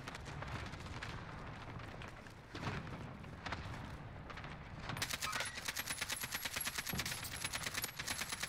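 Gunfire in a first-person shooter played with mouse and keyboard, heard as faint, rapid automatic bursts that build into a dense, steady stream of shots in the last few seconds.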